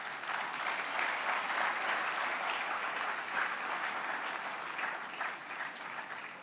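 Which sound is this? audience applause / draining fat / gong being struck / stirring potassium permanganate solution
audience applause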